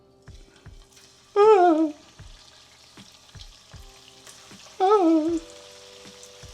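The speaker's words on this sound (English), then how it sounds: "Add up your plantain without burning yourself, because that's a very, very hot pan." Plantain slices sizzle in a very hot, smoking pan of oil with a steady bubbling crackle. A woman lets out two sharp, pitched exclamations over the frying.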